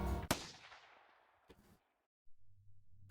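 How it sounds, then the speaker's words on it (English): A single sharp gunshot in the Steins;Gate game cracks out loud and close, then rings off into a fading tail, followed by near silence and faint small noises. "It really was a gunshot."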